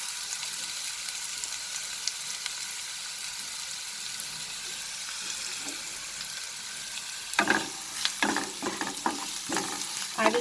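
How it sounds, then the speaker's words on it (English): Chopped onions cook in a pan for matar ghugni, giving a soft, continuous sizzle, with scraping stirs of a spatula becoming more frequent and louder near the end; no voices. "I will slightly cook this till the rawness of the onion disappears"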